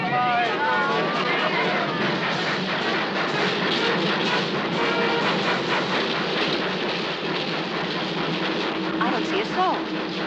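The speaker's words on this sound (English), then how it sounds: "Here comes the train!" A train rumbles in loud and close, its wheels clattering and brakes squealing, while a crowd murmurs and calls out underneath.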